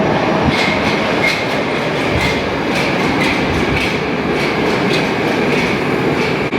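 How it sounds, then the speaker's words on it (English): A Moscow Metro train on the dark green Akademicheskaya line passes through a station, a loud, steady rumble with rhythmic clickety-clack of wheels on rail joints throughout, no talk. "I can hear a train coming, so let's have a look at one coming through just now."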